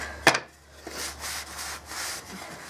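A rag wiping sawdust off sanded wooden door tags: one sharp knock, then soft, steady rubbing strokes, close and fairly quiet.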